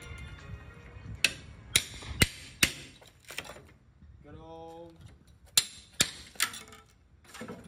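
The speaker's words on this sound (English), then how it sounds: "The best way to do it is come in with a crowbar." A crowbar pries out a door buck set with impact nails, bringing sharp, loud metal-on-wood knocks and cracks and a brief creaking squeal midway.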